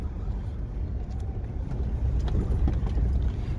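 Land Rover Discovery on standard running gear apart from its tyres, driving down a green lane trail in Wales, a steady low engine rumble heard from inside without talk.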